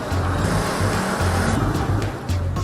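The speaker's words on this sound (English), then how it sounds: "Crammed with people, cars, bikes, scooters, this is urban chaos at its most extreme." Dense urban traffic of cars, bikes and scooters on a crowded island street, with engines droning and pulsing close by in repeated low surges, continuous and loud without pause.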